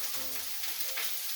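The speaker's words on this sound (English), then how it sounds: "sorry about the sizzling if you can't hear me" Gooey food sizzles in a pan with a continuous, fairly soft bright hiss and crackle that stays even throughout, with no one talking over it.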